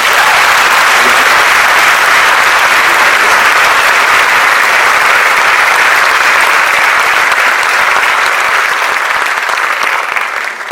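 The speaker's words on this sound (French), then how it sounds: "Un tonnerre d'applaudissements pour madame." Loud, dense applause from a theatre audience at a show, a sustained roar of clapping that carries on steadily without a break and tapers only slightly at the end.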